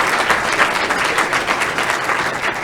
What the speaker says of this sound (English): Can we please honor her with a round of applause?